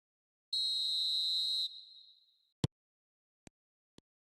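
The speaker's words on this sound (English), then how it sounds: "And the half-time whistle goes." A referee's half-time whistle in the football video game eFootball 26, a single long steady blast of about a second that fades out, followed by a few sharp clicks, with no talking.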